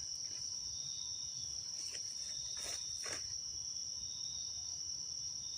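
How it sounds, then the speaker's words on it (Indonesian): Crickets chirp steadily at night in a forest, a constant high trill with a few louder pulses nearby, no voices over it. "Jangkrik."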